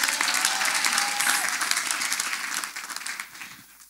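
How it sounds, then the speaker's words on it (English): A church congregation bursts into enthusiastic applause during a testimony service, loud dense clapping that gradually thins and fades toward the end. "Let us clap for Master Jesus."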